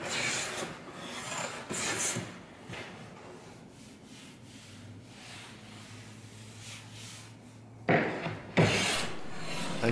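A Chinese-style wooden hand plane shaves wood in repeated rasping strokes, some close and loud, others softer, with a steady low hum underneath between passes.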